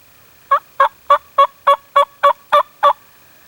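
A wild turkey gobbles and clucks in a crisp, evenly spaced series of nine loud, close calls during a spring hunt, heard alone against a quiet background.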